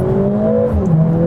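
Mercedes-AMG A45 S engine pulling hard at full throttle in comfort mode, a loud, steady rising engine drone with strong harmonics, close and continuous with no talking.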